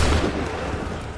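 A volley of gunfire let off on command, one heavy booming blast at the start trailing into a dense rumbling roll that stays loud for about a second.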